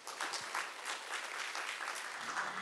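Audience applause after a talk at a symposium, a quiet but dense wash of clapping from a seated crowd, steady and continuous with no speech over it.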